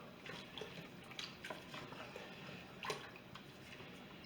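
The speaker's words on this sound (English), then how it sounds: "All right, and we give it a stir." A pot of Mexican pulled pork is stirred, giving faint wet sloshes and soft scraping clicks at an uneven rhythm, quiet and close with no talk.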